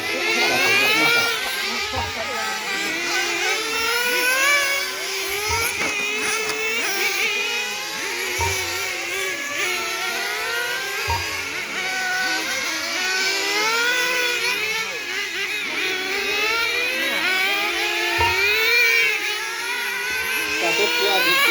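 Engine-powered radio-controlled cars race on a circuit with loud, high-pitched buzzing whines that rise and fall as they lap, several overlapping, while an announcer talks throughout.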